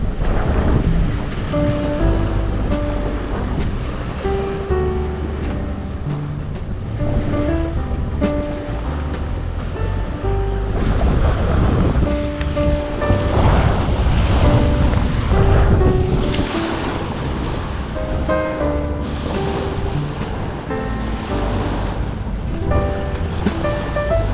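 Sea waves roll in at a seaside stop during a long birthday bike ride, a continuous loud wash with wind buffeting the microphone and no speech over it.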